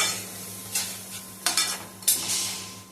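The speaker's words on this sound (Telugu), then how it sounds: "అల్లం వెల్లుల్లి పేస్ట్ కొంచెం పచ్చివాసన పోయి ఇందులో బాగా కలిసేటట్టు మనం దీన్ని కలుసుకోవాలండి" Ginger garlic paste being stirred as it fries in oil for a fish curry, with a few sharp scraping strokes over a steady soft sizzle, close and moderately loud, no talking.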